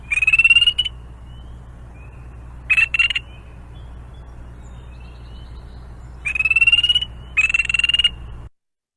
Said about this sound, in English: peepers will advertise their presence with a short trill preek, usually rising in pitch at the end